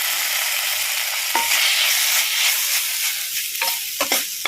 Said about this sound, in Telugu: జస్ట్ నేను ఇప్పుడు లాస్ట్గా అల్లం వెల్లుల్లి పేస్ట్ కొద్దిగా వేస్తున్నాను.